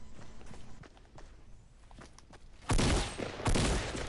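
Gunfire in an online duos shooter game with revolvers and shotguns: soft footsteps and light taps, then two sudden loud bursts of shots near the end, close and sharp.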